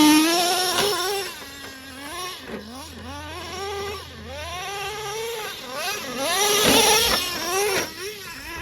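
Nitro engine of a Traxxas Slayer Pro RC truck fitted with buggy wheels, revving and driving with rising and falling whining pitch sweeps, loud and continuous throughout.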